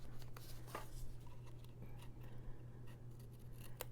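Scissors snip slowly through folded card stock while trimming a handmade card, making faint, close, irregular cuts over a low background hum.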